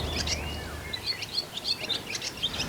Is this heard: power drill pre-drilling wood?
no